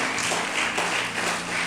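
A church congregation claps together in praise during a worship service, a dense, steady patter of many hands that carries on for a couple of seconds with no voices over it.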